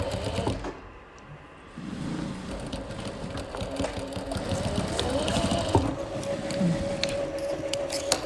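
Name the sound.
sewing machine stitching a straight seam on a zipper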